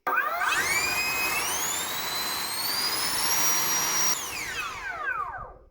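A 90mm electric ducted fan on a thrust test for a 3D-printed Harrier STOL jet spools up to a loud, piercing whine, holds steady for about four seconds, then winds down with falling pitch.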